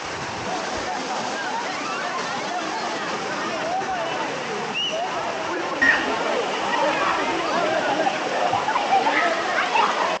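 Kovai Kutralam waterfall: a steady, dense rush of falling water filling the scene, constant and close, with a person speaking over the roar.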